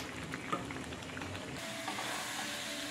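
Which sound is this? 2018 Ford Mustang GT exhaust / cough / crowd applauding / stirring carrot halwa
stirring carrot halwa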